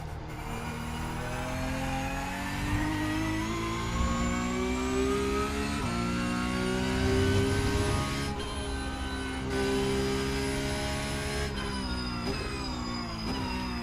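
A Porsche Cup race car engine in the iRacing simulator drones and revs steadily, its rising and falling whine shifting pitch with gear changes, loud and continuous with no talk.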